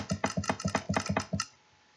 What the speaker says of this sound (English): I don't know if you can hear me clicking, but I'm clicking really fast